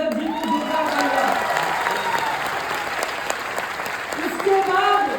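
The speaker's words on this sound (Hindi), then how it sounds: "ऐसे अपने कंपनी के crown diamond mister Rajesh Yadav ji को जोरदार तालियां।" Loud sustained applause from an audience in a large auditorium during a company birthday celebration speech, steady clapping with crowd noise and a voice speaking over it.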